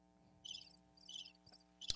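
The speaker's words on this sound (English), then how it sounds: "That's the sound. No, crickets." Cricket chirps from a sound-effect button play in three short bursts, moderately faint over a steady low hum, followed by a sharp click.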